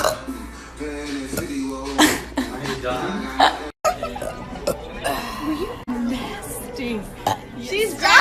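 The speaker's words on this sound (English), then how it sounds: "You just know it's gonna be good when you got the inhale burp." A woman burps repeatedly, with long croaking belches mixed with chuckles and laughter from several people, loud and close throughout.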